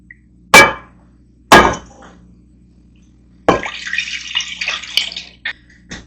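Whole milk and heavy whipping cream poured into a saucepan, preceded by two sharp knocks of containers set down, then a couple of seconds of liquid splashing and pouring, no voices.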